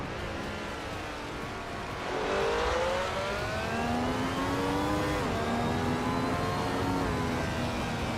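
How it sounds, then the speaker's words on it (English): A 2001 Cadillac Northstar LMP race car engine in a racing video game drones steadily, then revs higher as the car pulls away from pole, with rising and shifting engine tones continuing at a constant, fairly loud level. "Imjust Platinum is starting on pole. They're driving a 2001 Cadillac Northstar LMP."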